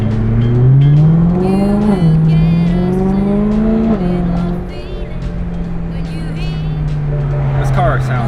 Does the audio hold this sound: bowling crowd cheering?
no